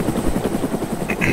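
Helicopter in the video game DayZ, a steady close rotor thrum with droning engine noise throughout, alone without talk.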